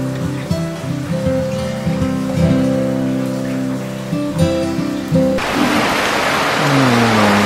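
Heavy monsoon rain pours down on a late-July afternoon, a dense, steady hiss that swells in after a stretch of music and then dominates to the end.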